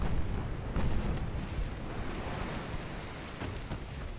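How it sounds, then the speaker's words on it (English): A ship's ammunition magazine detonates in an Ultimate Admiral: Dreadnoughts naval battle, a broad rumbling explosion roar that swells early and then fades into a long noisy wash. "Ammo detonation on the Danzig."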